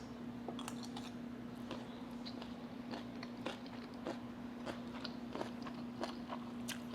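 Close, crisp crunching and biting of a meal-prep salad with radishes, repeated bites over a steady low hum, no talking.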